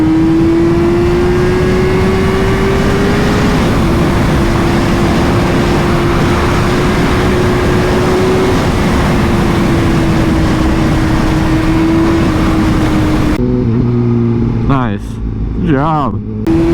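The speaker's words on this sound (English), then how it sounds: "This thing sounds like a jet. I say that every time I ride an SP, just the way the engine winds up." A Honda Fireblade SP sport motorcycle's engine holds a loud, steady high-pitched drone while riding, with heavy wind rush. The tone shifts slightly in pitch, and the sound changes abruptly near the end.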